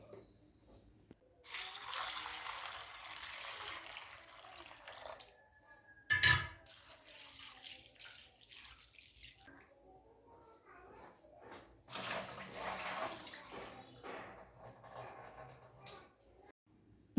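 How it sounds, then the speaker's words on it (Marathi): Chana dal is rinsed with water in short splashing, swishing bursts separated by quiet gaps, with a voice talking faintly in between. "डाळीला 2दा पाण्याने धुवून घेतलं"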